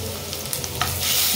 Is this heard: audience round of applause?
no